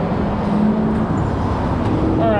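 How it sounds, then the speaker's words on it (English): Loud, continuous road traffic at the junction of Highway 50 and Lake Tahoe Boulevard, a steady engine and tyre rumble from passing cars with no break. "it's really loud because the traffic here is just obnoxious"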